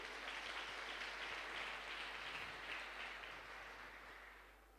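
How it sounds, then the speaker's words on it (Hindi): An audience at a direct-selling seminar in India applauds, a dense, steady wash of many hands clapping that holds for several seconds before fading slightly, with a constant low hum beneath. "सबसे पहले इनके लिए जबरदस्त तालियां होनी चाहिए दोस्तों"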